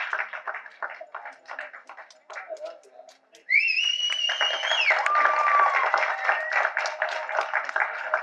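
At a Sawudu movie audio launch event, fans clap and cheer across a hall, with bright whistles cutting in midway. The crowd noise swells to a steady, loud roar while a voice talks over the start.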